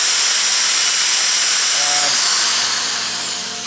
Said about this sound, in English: on the end of a drill to kind of clean the areas where I'm going to be welding